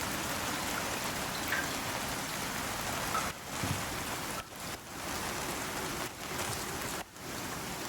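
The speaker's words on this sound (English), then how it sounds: "it is raining on it, so it should be." Steady rain falls in the survival video game Icarus, a continuous close hiss of drops on surfaces, with brief dips where the patter thins before filling back in.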